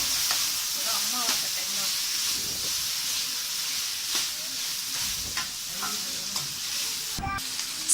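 Coriander sizzles in a pan while being sautéed for Tamil crab curry, a steady soft hiss broken by occasional stirring scrapes and clinks, close and quiet with no speech.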